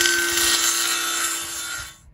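Power saw cutting through wood in a barn, a steady high whine with a sustained tone for about two seconds before stopping abruptly.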